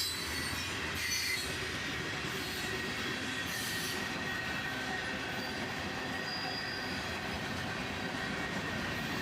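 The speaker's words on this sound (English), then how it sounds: "A northbound this time, led by an ES40 DC and an AC44 CW." A northbound freight train led by ES40DC and AC44CW locomotives rolls past close by, a loud continuous roar of wheels on rail with squealing flanges and steady rumble throughout, no voices.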